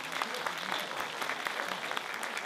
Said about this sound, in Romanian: Ea este, vă rog frumos să aplaudați.